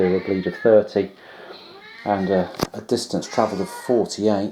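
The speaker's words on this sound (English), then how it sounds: "That's my cat going crazy for some reason." A pet cat meows insistently in the background, repeated yowls rising and falling while someone talks steadily over them at close range.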